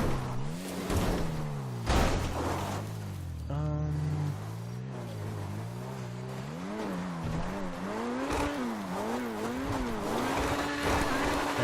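A car in a video game drives over dirt and hills, its engine note rising and falling in repeated revving swells with brief skidding bursts, moderately loud and continuous.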